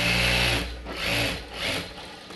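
A sewing machine stitches a folded blouse hem in a tailoring class, its motor whirring loudly up close in a few uneven surges over about two seconds, with no speech.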